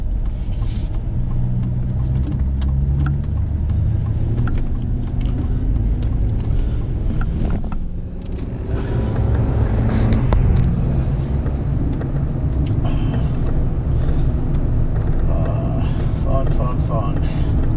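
Steady road rumble of a car heard from inside the cabin while driving, a continuous low drone with occasional clicks and shifts, running under someone talking.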